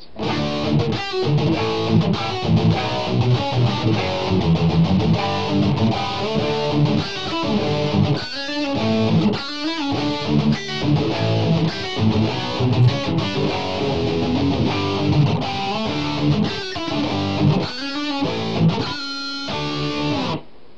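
A distorted electric guitar plays a fast, dense run of notes at a steady driving tempo of about 210 beats per minute, loud and continuous with only brief gaps.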